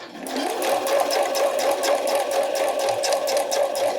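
A home sewing machine stitches a bra dart on a bralette in one continuous run, its fast needle rhythm chattering with a steady motor hum, close and alone without talk.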